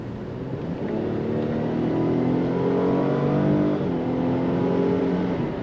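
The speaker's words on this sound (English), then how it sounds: "Some decent power when you put your foot down, and the kick down does work on that automatic transmission" A 2010 Chrysler Sebring Limited convertible with an automatic transmission accelerates hard as the kick-down engages, giving a steady engine drone that rises in pitch and holds loud and close throughout, with no talking.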